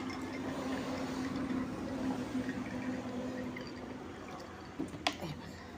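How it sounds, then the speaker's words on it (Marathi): Cold water is poured over ice cubes in a glass of orange sherbet. A steady, close liquid filling sound runs for several seconds, then ends in a few sharp clinks near the close, with a voice talking over it. "मी हे बर्फाचे खडे घेतले आहेत ते वरती घालते आणि त्याच्यावरती हे थंड पाणी घालते"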